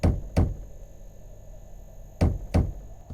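Door knocking in a murder investigation video game set near a village, two pairs of sharp, hollow knocks with a pause between them, close and loud with no one speaking.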